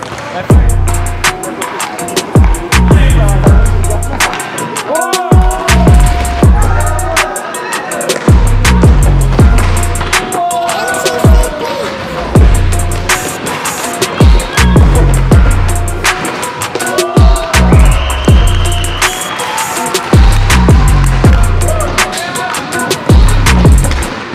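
Roller hockey players at a rink bang their sticks against the boards in loud, repeated rhythmic slams, mixed with shouting and echoing hall noise.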